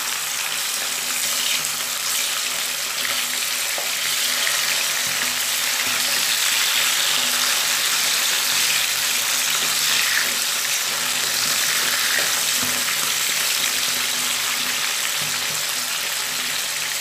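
Bata fish frying in oil in a pan, producing a loud, dense, continuous hiss and sizzle that stays even for the whole stretch, close up with no voices.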